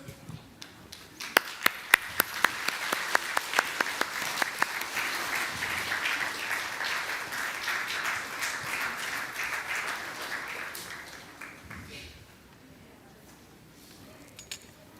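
A church congregation at a Sunday service applauds new-family course graduates, with sharp individual claps at first swelling into steady clapping that fades out, leaving quiet room tone at the end.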